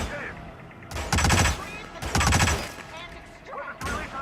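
Gunfire in the Hitman video game during a mission set in Colorado: three loud bursts of rapid automatic shots, each lasting about half a second, spaced roughly a second apart over steady game background noise.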